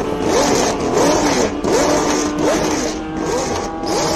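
A 1974 Tyrrell 007 Formula 1 car, the one Jody Scheckter raced, screams past at a hillclimb, its V8 engine rising and falling through repeated upshifts in a loud, continuous howl.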